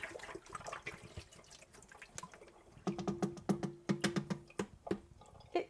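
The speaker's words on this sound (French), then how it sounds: "on la remplit d'eau 2-3 fois" A glass is rinsed with water, filled and emptied a few times: short splashes and pours, then a quick run of gurgling sloshes, close and fairly quiet.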